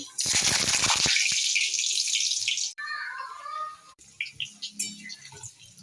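Potatoes fry in a kadai with a loud, hissing sizzle for the first few seconds. The sound then turns quieter and more scattered, with faint crackles.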